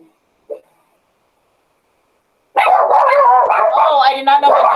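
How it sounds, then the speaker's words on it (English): Dogs barking indoors at home: one short yelp early on, then after a pause a loud, continuous burst of barking and yipping that runs to the end. "I did not know my dogs were in here"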